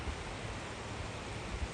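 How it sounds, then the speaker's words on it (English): A mountain waterfall in the Pacific Northwest gives off a steady, broad rushing roar, continuous and fairly distant, with light wind buffeting the microphone. "really cool waterfall"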